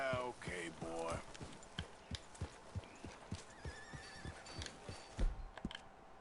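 Horse whinnying at the start in Red Dead Redemption 2, then a steady run of clip-clop hoofbeats walking along under faint background game sounds, with a louder thump near the end.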